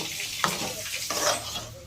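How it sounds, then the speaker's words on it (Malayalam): Mango pulissery, a Kerala curry with ground paste just added, is stirred in a pan: a brief, close scrape and swish over a soft sizzle, with two sharper strokes. "നന്നായി ഇളക്കുക."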